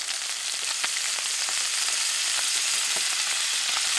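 Sweet corn frying with soy sauce and butter in a pan on an EcoZoom rocket stove, giving a steady bright sizzle with scattered small pops and crackles throughout, no voices.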